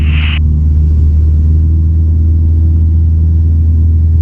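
A light training aircraft engine drones steadily in level flight, a loud continuous low rumble with a brief high beep at the start and no talk.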